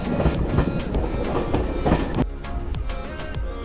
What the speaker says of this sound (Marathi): ही इकडची लोकल ट्रेन आहे